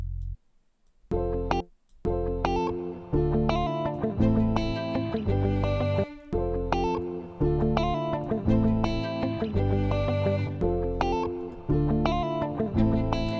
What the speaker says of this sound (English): I am going to use the Govan bass. I love using this bass from the Fire Kit.